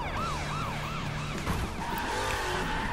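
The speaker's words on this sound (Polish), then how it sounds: "O, karetka." A wailing ambulance siren in the racing video game The Crew cycles repeatedly over a car engine's drone, loud and close, with its pitch sweeping up and down in a steady rhythm.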